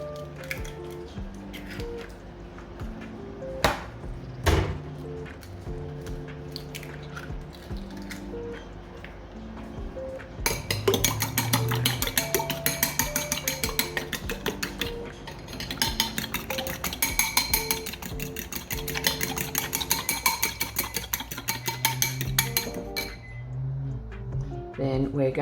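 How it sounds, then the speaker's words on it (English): Eggs are beaten in a bowl for a wholemeal banana bar, starting with scattered clinks and then a fast, steady stretch of rhythmic clinking and sloshing up close that lasts over ten seconds. "the next thing we need to do is to beat the eggs"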